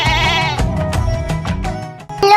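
A goat bleats loudly and up close in a long wavering cry, then gives a shorter, higher call at the end, with no voices over it.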